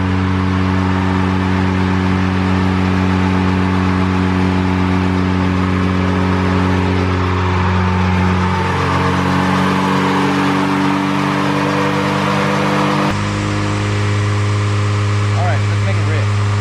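A supercharged Honda Integra engine holds a loud, steady drone with a whirring tone that rises, then drops sharply near the end, with voices nearby.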